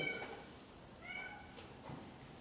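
Soft, faint cat meows, two or three brief calls spaced apart, heard from a little distance in a quiet space.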